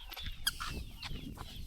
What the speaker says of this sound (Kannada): ದಾರಿಲಿ ಕೋಳಿ.